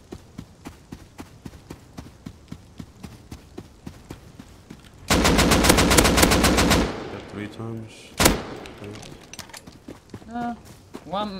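Gunfire in a shooter video game: a rapid automatic burst following steady rhythmic footsteps, then scattered shots and effects, with voices talking over it.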